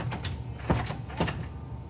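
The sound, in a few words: commercial storage room door closing and locking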